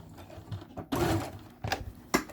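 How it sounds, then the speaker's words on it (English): A sewing machine stitches across a fabric zipper pouch and backstitches, with short close bursts of rapid mechanical whirring separated by brief pauses. "Sewing all the way across. I'm backstitching."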